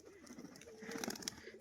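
A native Giribaz pigeon from Beldanga coos softly nearby, a short burst of low throaty calls rising over faint background noise.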